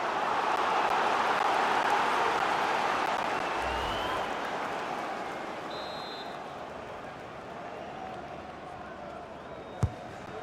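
Stadium crowd noise from a FIFA 22 football match, Portsmouth against Manchester United, a sustained roar of fans swelling as a set piece builds, loud and steady with a single sharp thud near the end.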